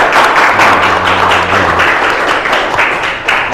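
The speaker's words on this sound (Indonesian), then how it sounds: "Tepuk tangan dulu untuk Jaka" Steady applause from a classroom full of students after a group presentation, loud and continuous throughout, with faint voices mixed in.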